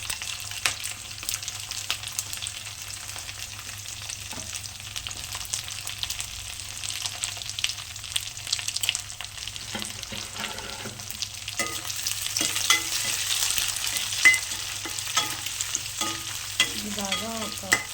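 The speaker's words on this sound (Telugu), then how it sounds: "మనం కట్ చేసి పెట్టుకున్న క్యాప్సికమ్ ఇలా వేసుకోవాలి." Chopped capsicum fries in a pan with a continuous soft sizzle, joined by intermittent scraping and clinking stirs of a spatula that grow busier toward the end; no voices.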